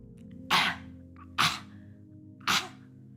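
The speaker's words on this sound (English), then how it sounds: "cough it out on the breath out" Three sharp, forceful coughs during a breathing exercise in a workout session, spaced about a second apart, close and isolated against a quiet background hum.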